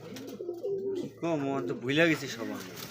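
Lahori Sirazi cross pigeons coo in soft, rolling throaty calls close by, repeated several times, with voices talking at a market stall mixed in.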